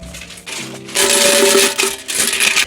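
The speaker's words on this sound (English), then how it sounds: "this, besties, is actually my jar, and as you can hear, she is full" A jar packed with pound coins is shaken close by in loud, clattering bursts of jingling metal, with a brief lull before a longer, vigorous rattle.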